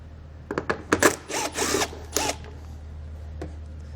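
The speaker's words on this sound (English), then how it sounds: "We'll run those out using an 8mm socket." Power tool spinning out taillight bolts with an 8mm socket while fitting a towing wiring kit: a few brief, close whirring bursts in quick succession, then quiet.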